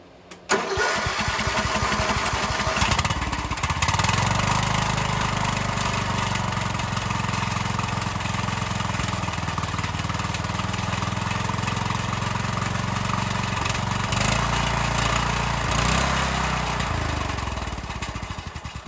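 A small Troy engine is test-started after its valve cover and spark plug are refitted, catching quickly, then running and idling with a steady close putter, its pitch shifting briefly near the end.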